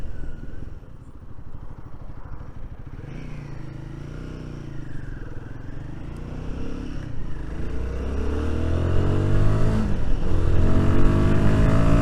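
Royal Enfield Guerrilla 450, a 40 bhp motorcycle, accelerating along country lanes, its engine note building steadily in loudness and pitch over twelve seconds, close and continuous with rising revs near the end.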